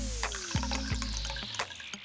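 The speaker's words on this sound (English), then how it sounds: "First, a slurp of vinegar in the test tube." Vinegar is poured into a glass test tube for a chemical test, a short liquid splash and glug with rising fill tones, heard up close and alone.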